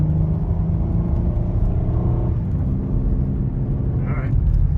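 A Lincoln MKX AWD drives along the road after a rear differential replacement, steady engine hum and low rumble of tires, continuous and close, from inside the vehicle.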